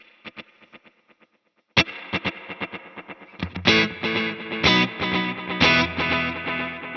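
Electric guitar through a Strymon Volante delay, with a dotted-eighth head panned left and a quarter-note head panned right, plays sparse plucked notes followed by a louder strummed passage, its repeats forming rhythmic, cascading stereo echoes.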